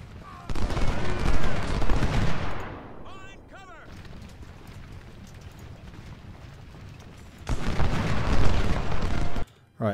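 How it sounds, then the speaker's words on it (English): Artillery and gunfire in the video game Ultimate General: Civil War, loud dense rumbling volleys at the start and end, with a quieter stretch of distant battle noise between them. "Right, artillery."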